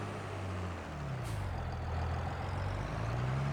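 A heavy engine runs steadily, a loud, continuous low rumble and roar with a shifting pitch and a brief hiss near the start, with no talking.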